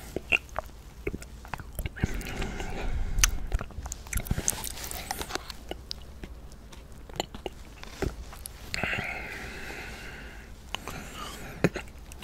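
Close-up eating of Optifit orange quark, with soft wet mouth sounds, small bites and chewing clicks repeating steadily near the microphone, some faint whispery noise between.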